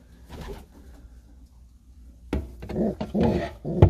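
Soft pigeon cooing and rustling in a quiet spell, then louder close-up bird movement and cooing bursts toward the end.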